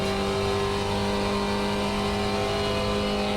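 A Spec Racer Ford race car in the iRacing video game at Phillip Island braking into a corner, its engine a loud steady drone with strong harmonic tones, continuous and alone.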